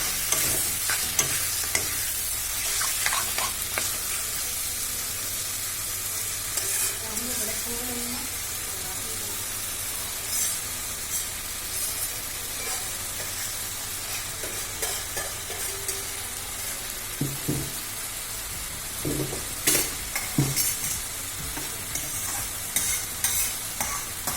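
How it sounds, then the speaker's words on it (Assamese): Stirring in a frying pan: steady sizzle of frying food with intermittent scraping and clinks of a spoon, close by, continuing throughout. "এনেদৰে অলপ ভালদৰে লৰাই দিব।"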